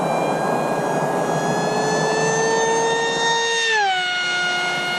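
An RMRC Strix Goblin FPV plane's electric motor whines at two-thirds throttle, a steady, loud, close tonal buzz that holds, then dips in pitch near the end as it passes.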